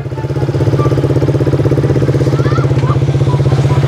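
A manual motorcycle pulls away as the clutch is let out and throttle applied, its engine chugging loudly and close in a steady rapid pulse, with voices faintly underneath.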